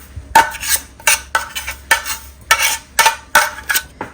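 Ground jaggery laddu mixture being scraped into a bowl with a spoon, a series of sharp metallic clinks and scrapes in an irregular rhythm, close and fairly loud, with no speech.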